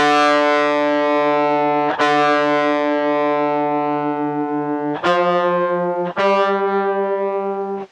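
A ROXSYN iOS guitar synth playing two slightly detuned voices at the same octave, sustained distorted notes that shimmer and beat, changing pitch on three sharp attacks, with no talk.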